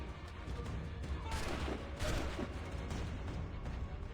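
Cannon or musket gunfire in the video game Assassin's Creed 3 Remastered, a sustained fusillade of blasts and crashing booms that swells around the middle and keeps rumbling loudly throughout.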